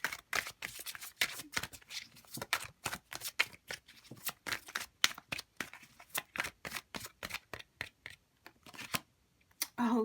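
Oracle cards from a goddess deck being shuffled close up, a quiet run of rapid papery riffles and slaps in irregular bursts, with brief pauses between handfuls.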